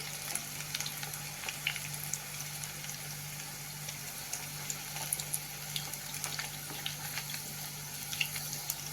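Cabbage fritters (kobi vade) frying in hot oil give a soft, steady sizzle with scattered small pops and crackles, fairly quiet and close, with no talking.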